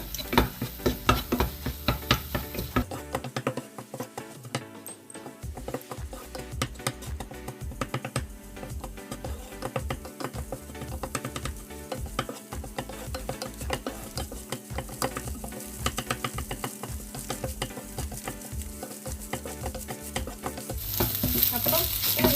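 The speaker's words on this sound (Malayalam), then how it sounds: "എന്നിട്ട് ഇത് നന്നായിട്ടൊന്ന് മിക്സ് ചെയ്യാം നമുക്ക്" A spoon scrapes and stirs a quick everyday curry in a pan with continuous rhythmic clicks and a low sizzle underneath, and the stirring carries on steadily from start to finish.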